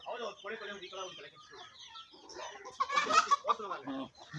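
Native village chickens cluck in short, uneven bursts at fairly low volume, with a louder flurry of clucking near the end and people's voices mixed in.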